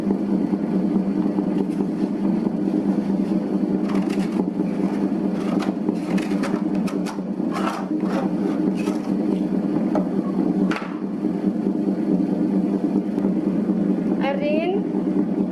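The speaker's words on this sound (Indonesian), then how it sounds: "Nyalakan mesinnya, langsung mengadon." A bread dough mixer machine hums steadily while kneading chocolate bread dough, a constant motor drone with occasional knocks and scrapes, close and loud throughout.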